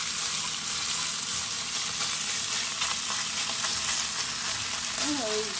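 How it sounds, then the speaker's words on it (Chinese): Beef sizzles and fries steadily in a hot pan with minced garlic, a continuous close crackle that holds at an even level throughout, with a faint brief voice-like sound near the end. "煎一煎它，炒牛肉呢就最忌是反來反去"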